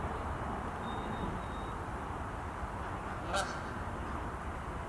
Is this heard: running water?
no